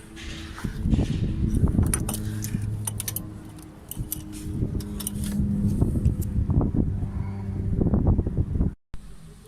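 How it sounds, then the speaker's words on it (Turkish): A wrench turns a stiff fitting on a car's clutch hydraulic system, giving repeated metallic clicks and scrapes that come close and fairly loud over a rough background noise, with a brief cut near the end. "İngiliz anahtarımızla çeviriyoruz."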